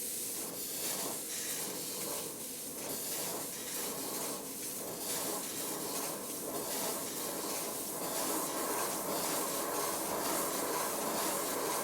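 A model Stirling single steam locomotive running on very low steam pressure with its drain cocks open, giving a loud continuous hiss of escaping steam pulsing with slow, regular exhaust beats.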